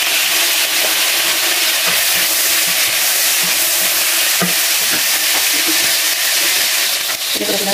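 Chicken frying with onion in a pan for a kabsa curry, a loud, steady sizzle with repeated scraping stirs throughout, close up and with no talking.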